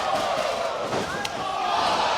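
A packed wrestling crowd roars at a Ring of Honor 11th anniversary show inside the Frontier Field House, a dense sustained wash of cheering and shouting with a sharp thud partway through.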